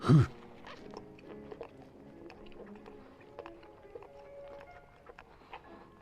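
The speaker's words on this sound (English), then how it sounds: "Oh, not the chewing sounds." Chewing while a meal is eaten in the Fears to Fathom video game, a sharp bite at the start and then faint continuous crunching and mouth noises for several seconds.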